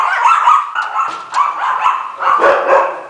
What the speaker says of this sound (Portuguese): Eu vou sair, não é pra latir